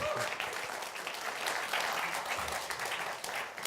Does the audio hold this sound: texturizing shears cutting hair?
no